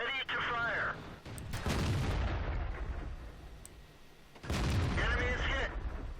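Cannon fire from an AMX 50 100 tank in World of Tanks: two heavy booming shots a few seconds apart, mixed with voice callouts from the game.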